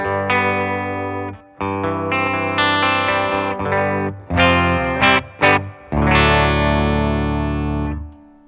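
Clean electric guitar played through a Fender Princeton amp with a Blackhawk Alnico speaker: loud, ringing chords and single notes in phrases with brief gaps, each sustaining fully with no talk over it.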